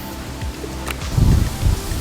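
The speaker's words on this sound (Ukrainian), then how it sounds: "Зараз дуже сильний вітер дує." Strong wind buffets and roars in low gusts while fishing, with a rustling, rain-like hiss and a few sharp knocks mixed in.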